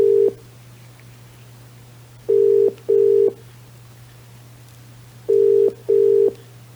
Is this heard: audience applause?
no